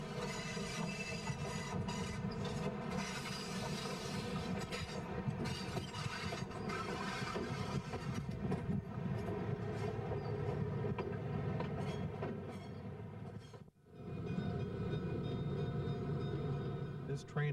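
The 1936 Nebraska Zephyr streamlined diesel trainset rolls along the rails with a steady rumbling drone and faint clickety-clack, a narrator speaking over it, with a brief dip in sound near the end before the rumble resumes.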